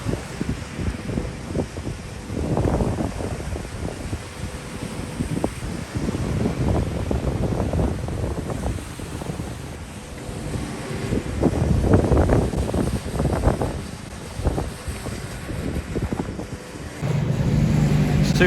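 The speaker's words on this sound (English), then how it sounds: "Too windy to do it this side." Gusty wind rumbles across the microphone continuously, swelling and easing in waves throughout.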